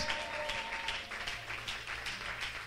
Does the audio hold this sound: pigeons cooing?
no